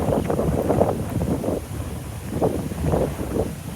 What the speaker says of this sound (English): this wind is at least 40 miles an hour